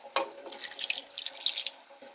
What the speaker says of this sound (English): we're going to add in a little bit of water just so they don't burn